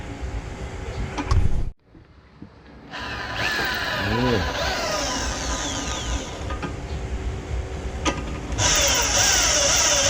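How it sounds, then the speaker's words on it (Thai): An ordinary electric drill boring a hole during a motorcycle parts modification, a steady whirring drone with a short pause early on, then continuing loud and close with rising and falling pitch. "เราก็ใช้สว่านทั่วไปเจาะใช่ไหม"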